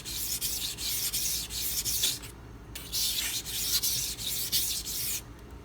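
A Spyderco Endura 4 Wharncliffe knife blade is drawn across a Pride Abrasives sharpening stone in repeated close rasping strokes, each pass a steady scrape separated by brief pauses.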